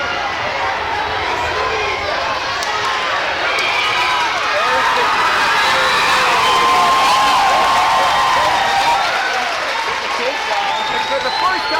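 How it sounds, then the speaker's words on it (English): A school crowd at an ACGC versus LCWM match cheers steadily throughout, a dense wash of voices and shouts that swells in the middle before easing slightly, with no clear speech on top. "For the first time during this duel, the ACGC crowd is into it."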